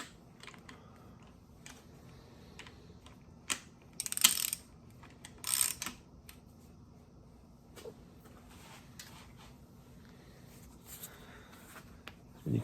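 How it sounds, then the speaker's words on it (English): A stud removal tool grips and turns engine studs, giving two short bursts of metallic ratcheting and scraping against a quiet workshop background, with a few scattered faint clicks. "It's a great stud removal tool. And as you go to loosen it, it grips and pulls."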